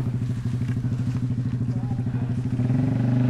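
A CFMOTO 450MT motorcycle engine idles loudly and close after overheating on an off-road track, a rough, rapid throbbing pulse that steadies and thickens toward the end.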